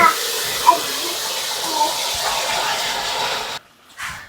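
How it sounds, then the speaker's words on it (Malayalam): Hot water poured into a cup: a steady, fairly loud splashing stream running for several seconds, then cutting off abruptly before a brief final trickle. "ഒരു കപ്പിന്റെ അടുത്ത് ചൂടുവെള്ളം ഒഴിക്കുകയാണേ"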